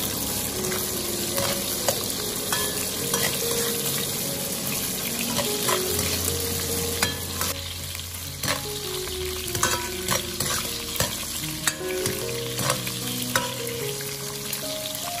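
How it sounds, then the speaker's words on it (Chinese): Sliced pork belly fries in hot oil over low heat in a wok, rendering its fat. A steady sizzle runs under scattered scraping stirs, with no voices. "油热后倒入切好的五花肉，开小火把五花肉里面的油脂炒出来"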